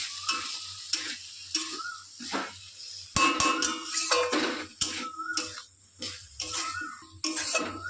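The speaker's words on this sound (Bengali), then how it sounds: "দিয়ে এবার আরেকটু কষিয়ে নিচ্ছি" Sama grain rice stir-fried in a pan for vegetarian khichuri, with repeated scraping stirs and a soft sizzle, utensil clinks against the pan at close range, and no talk.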